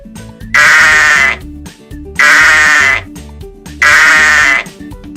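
A ram bleats three times in loud, drawn-out, wavering calls close by, each lasting under a second and separated by short quiet gaps.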